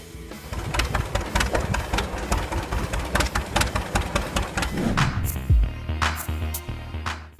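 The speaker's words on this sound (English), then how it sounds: "John Deere Model A." John Deere Model A farm tractor engine running steadily, with a loud, even putt-putt rhythm of close exhaust beats that continues throughout with no talking.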